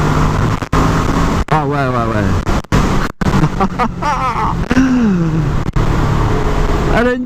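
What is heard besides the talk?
Kawasaki ER6N motorcycle accelerating and shifting gears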